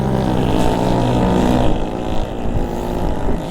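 An orange scooter with a loud full-pipe style exhaust rides past, its engine a steady buzzing drone mixed with wind rush, holding close and strong before thinning slightly.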